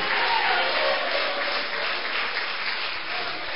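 A church congregation breaks into steady applause, a dense, even roar of many hands clapping at once that holds throughout, with faint crowd voices mixed in.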